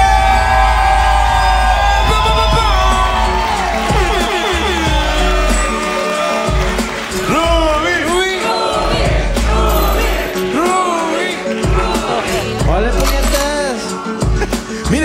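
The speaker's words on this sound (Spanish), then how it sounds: "Quiero escuchar un fuerte ruido, un aplauso para el señor Rubéster Flores." A crowd cheering and whooping for Rubéster Flores at an exhibition event, loud sustained shouts and cheers with whistles and rising voices filling the space throughout.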